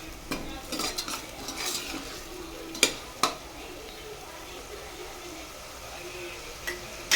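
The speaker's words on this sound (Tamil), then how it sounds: "சிம்மில் வச்சுட்டு கலந்து விட்டுக்கோங்க" Ginger-garlic masala for mushroom biryani fries on a low flame while a spoon stirs it, a soft sizzle under scattered scraping strokes and a few sharp clinks against the pan.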